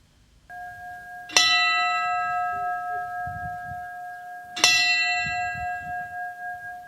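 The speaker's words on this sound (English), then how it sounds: "Church bells chimed across the city to honor the 10 people killed 1 year ago today" Church bells in Buffalo, New York ring to honor the ten people killed in the Tops Supermarket shooting one year earlier. A sustained tone is followed by two separate bell strikes a few seconds apart, each ringing out and decaying slowly.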